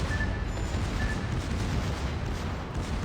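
The secondary battery of the Schlieffen, a warship in a naval video game, fires in a dense, continuous barrage of overlapping booms that roars steadily with no break.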